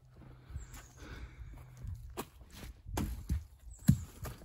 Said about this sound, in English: That was my walking stick.